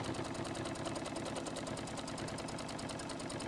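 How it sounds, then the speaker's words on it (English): A sewing machine stitches a bottom seam through several fabric layers, running in a fast, steady, even mechanical rhythm throughout with no talk. "Now I'm just sewing that bottom line, and that's all I'm doing at the moment."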